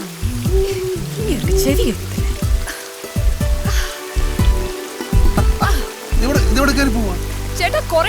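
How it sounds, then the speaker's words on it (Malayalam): Heavy rain hisses steadily throughout in the background of a comedy film scene, running beneath continuous spoken dialogue. "ഈ മഴ മാറുന്ന ഒരു ലക്ഷണവും ഇല്ല"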